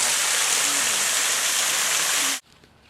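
A waterfall pours as a loud, steady roar of falling water heard close up, unchanging until it cuts off abruptly near the end, leaving a quiet background.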